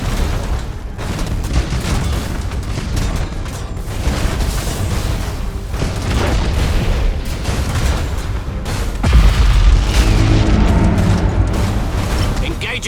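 Thunderhawk bombardment in Battlefleet Gothic: Armada 2 rolls on as a long run of heavy explosions and booming blasts, dense and loud, building to a bigger burst near the end, with voices talking under the noise.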